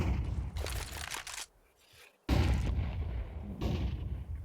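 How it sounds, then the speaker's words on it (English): Flashbang grenade in Counter-Strike, a sharp loud bang with a harsh ringing burst, a brief near-silent gap, then another heavy blast of gunfire-like noise. "That's a nice flashbang."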